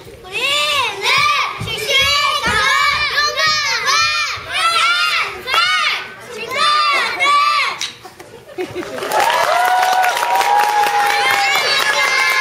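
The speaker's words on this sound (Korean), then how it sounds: "다시 한번 큰 박수 부탁드릴게요." Children chatter and shout in an audience after a kindergarten play while an amplified voice speaks, then broad, dense clapping swells up and fills the final few seconds.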